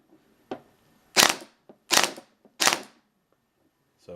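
Airsoft derp gun built from an HK G36C with three MP7s running off a 7.4 battery, firing three loud, sharp, near bursts about two-thirds of a second apart, each with a short mechanical rattle, plus fainter clicks between.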